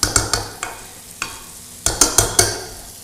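A masher works through potatoes in a pot: a handful of sharp, close knocks and squelchy thumps in uneven bursts, with short pauses between them and no talking.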